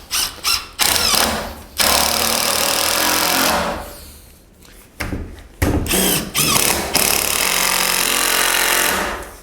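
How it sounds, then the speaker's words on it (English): A power drill drives 4-inch GRK screws into a log kayak rack. Loud, close whirring bursts start and stop several times, with a softer lull in the middle. "And now we'll screw that side in. 4-inch GRKs again."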